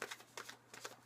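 Quiet, quick riffling bursts of tarot cards being shuffled by hand, a few short flurries close up with brief pauses between them.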